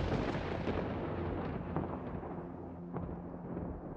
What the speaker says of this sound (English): The Turpin family name was inspired by the mighty sound of thunder.